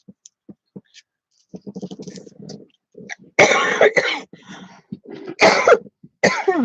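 Scattered light clicks lead into a string of harsh, rough coughs, several in bursts, loud and close with short pauses between.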